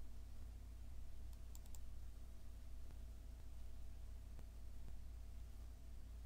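Computer keys tap faintly and sparsely over a steady background hum, with a few isolated clicks spaced across the stretch and no one speaking.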